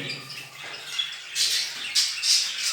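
Birds in a clean breeding aviary squawk and chirp in repeated harsh bursts, fairly close and moderately loud, with no talking.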